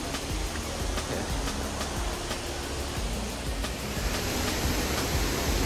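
Tiggalay Falls waterfall rushes in a steady, broadband roar, even and close with no break or talk, the constant wash of falling water filling the whole moment.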